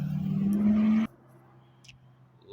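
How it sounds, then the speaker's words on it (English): A loud car engine roars nearby in a backyard garden for about a second, then cuts off abruptly, leaving a quiet low hum with a faint distant click. "Loud engines. Annoying."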